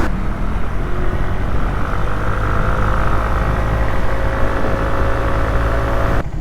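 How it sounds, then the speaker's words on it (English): A 2003 PGO My Bubu 125 scooter, suspected of knocking, drones steadily on a test ride, its engine hum mixed with heavy wind rush, loud and close throughout. "The engine's still holding together."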